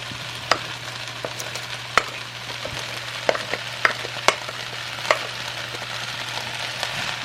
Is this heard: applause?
no